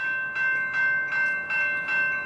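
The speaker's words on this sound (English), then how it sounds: "Looks like a double engine freight train." A double-engine freight train passing on a Canadian subdivision line, a loud, close rumble with rhythmic pulses about every 0.4 seconds, like wheels clattering over rail joints, and a steady whine above it, with no voices.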